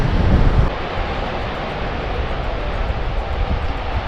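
Middle tier of a waterfall on Iceland's Golden Circle, a loud, steady broadband roar of rushing water with a gusty buffet at the start, continuous and near.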